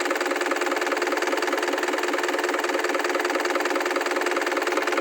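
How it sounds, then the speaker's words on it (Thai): An Isuzu engine in a Kobelco SK04N2 mini excavator runs loud and close, a steady dense mechanical roar holding constant without any break. "ครับผมนี่ขึ้นไปเบิ้งเลยนะครับผม อันนี้เป็นเครื่องอีซูซู"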